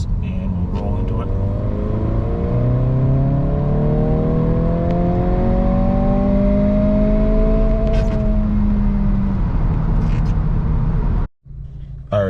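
A 2022 Honda Civic Si running a Ktuner tune accelerates in third gear from about 2500 RPM, its engine note rising steadily and loudly for several seconds before cutting off abruptly near the end.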